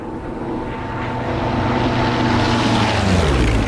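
Propeller engine of a P-47 fighter plane in the DCS flight simulator game, a loud steady droning roar that grows slightly stronger and shifts pitch toward the end, with no talking over it.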